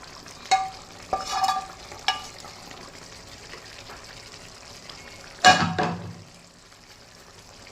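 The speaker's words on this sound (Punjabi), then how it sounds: "ਹੁਣ ਇਹਦੇ ਵਿੱਚ ਪਾ ਦਿੰਦੇ ਆ ਆਲੂ" Potatoes tipped into a hot pan of yogurt masala for a Punjabi aloo sabzi, giving a few sharp clatters and sizzling bursts, then a loud hiss of frying with stirring scrapes, close up.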